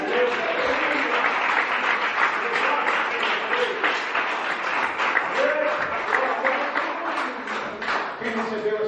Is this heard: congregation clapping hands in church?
yes